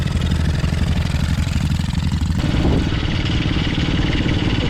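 A TaoTao 110cc dirt bike engine runs close by, a loud steady clattering idle with a rhythmic low pulse that shifts slightly as the throttle changes.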